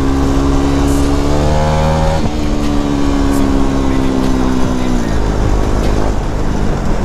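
Busy road traffic in Panchkula heard from a riding Kawasaki motorcycle, loud engine drone with shifting revs and gear changes close up, other vehicles around, and a voice talking over it.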